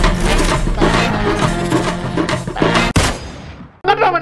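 Dense video-game gunfire with rapid overlapping shots and a rocket launcher in the mix, loud and continuous, with one sharp crack near the end followed by a brief gap before firing resumes.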